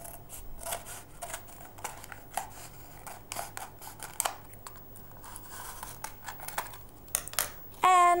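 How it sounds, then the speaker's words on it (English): Scissors snipping through a paper cylinder, a series of short, crisp cuts in an irregular rhythm, close and fairly quiet, with faint paper crinkling between snips. "Now using my pair of scissors, I cut"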